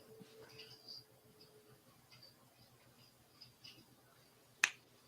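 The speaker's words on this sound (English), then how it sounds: "I'm snapping my fingers to see what's going on." A single sharp finger snap rings out near the end, close and crisp, after a stretch of quiet room tone with faint scattered noises.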